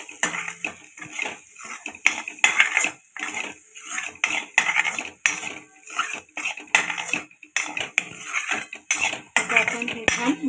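A spoon scraping and clanking against a pan while chole masala is stirred and sautéed for ragda pattis, rapid irregular metallic scrapes and taps, close and steady throughout with no talking.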